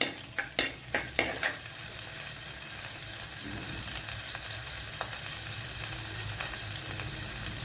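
Three or four garlic cloves, three green chillies and a small piece of ginger sauté in hot oil for a Kerala sardine curry: a few sharp stirring clinks at the start, then a steady close sizzle on its own.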